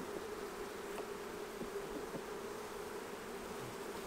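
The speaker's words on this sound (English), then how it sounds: "I haven't smoked these bees in a while" Honeybees at an open hive during an inspection of small hives for virgin queens, a steady dense buzzing hum that runs unbroken throughout at moderate level, with no voices.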